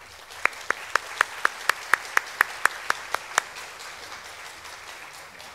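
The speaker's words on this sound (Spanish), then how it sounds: "les pido un fuerte aplauso para ella" A short run of about a dozen sharp, evenly spaced claps rings out against a quiet room, then stops abruptly.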